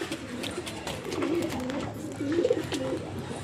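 Grey Barless Lahori pigeons coo in a loft, several soft, low rolling coos repeating close by over a steady background hum, no voices.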